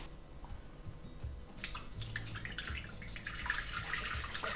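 Water is poured into the bowl of a Thermomix TM6 for bread dough, a soft steady splashing trickle that builds over a few seconds, faint and close with no talking.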